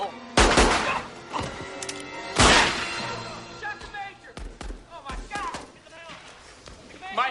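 Several sharp gunshot blasts ring out in a tense film scene, loud and close, as a police officer is shot, followed by scattered thuds and a frantic shouting voice.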